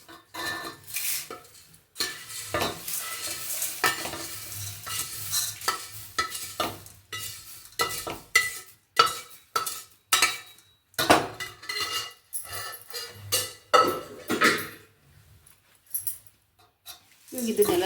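A spoon scrapes and clatters against a metal bowl while puffed rice churumuri is tossed and mixed, giving irregular bursts of crisp rustling with someone talking over it.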